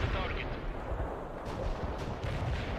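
Artillery fire blasting defenses in the strategy game World in Conflict, a dense, continuous rumble of heavy booms and gunfire crackle close up, with a few sharper blasts standing out.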